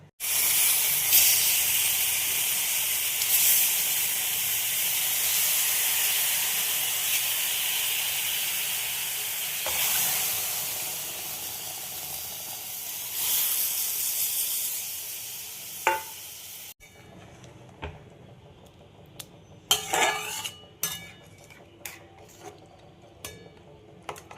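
Hilsa fish with a cashew, melon seed and sesame paste sizzles loudly in a wok, a broad steady hiss that fades, then stops abruptly, leaving scattered clinks and stirring scrapes.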